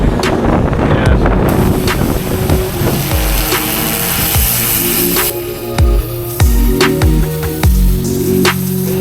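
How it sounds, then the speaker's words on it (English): Strong wind buffeting a microphone on a house roof during pressure washing, a loud, rumbling roar with gusty low thumps and scattered knocks throughout. "That wind is crazy today."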